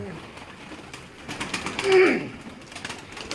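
Breeder pigeons on a rooftop in Faisalabad give a soft coo or call near the middle, over faint background murmur and some distant human noise.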